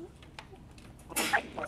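A single sharp sneeze bursts out near the end, close and fairly loud, after some quiet background shuffling during an esports match session.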